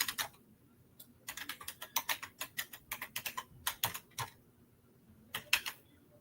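Someone types on a computer keyboard in bursts of quick, light clicks with short pauses, close and fairly quiet, no talking.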